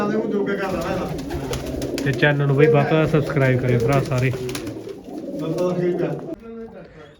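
Pigeons coo softly in the background while someone talks over them for most of the stretch; the birds are fancy pigeons, including red bearded and black-marked varieties.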